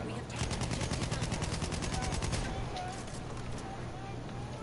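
Quiet, steady bursts of automatic fire rattle in a Battlefield 1 match, the rapid shots running for a couple of seconds before fading into a softer din while a player talks over them.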